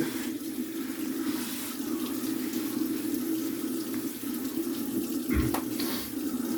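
Hot water running steadily from a bathroom tap while a bald head is being shaved, a continuous close hiss and splash with a brief knock near the end, no talking.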